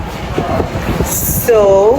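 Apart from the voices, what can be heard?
subway train in New York subway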